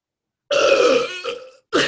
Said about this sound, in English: Great burp